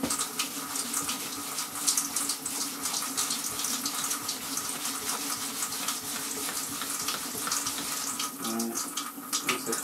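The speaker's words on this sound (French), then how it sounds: "Voilà, tu rinces." Tap water pours steadily from a faucet while a Toyota Avensis car sun visor from 2004 is rinsed under it, a continuous close hiss with a brief splashier change near the end.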